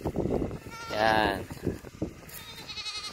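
Goats on a small backyard farm bleat in wavering, nasal cries close by, with a person talking over and between the calls.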